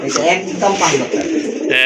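A finely marked, light-coloured pigeon coos in soft, rolling calls close by, mixed with a voice talking at a pigeon market.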